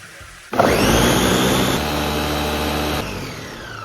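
A close, loud blender starts abruptly and whirs steadily as it purees tomatoes, onions, garlic and stock, its pitch settling slightly partway through before it drops off near the end.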